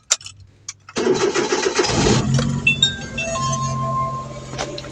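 A few light clinks come first, then a vehicle engine cranks, catches and settles into a steady idle as it warms up, heard close and fairly loud.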